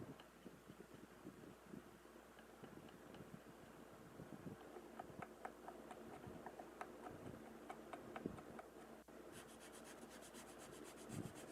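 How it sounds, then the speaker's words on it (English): A hand chisel pares a slight bevel into the wooden body of a custom guitar around the back plate, giving soft, steady scraping and rubbing strokes close up over a faint background hiss. "Here I'm just using a chisel to add a slight bevel to the area of the body around the back plate."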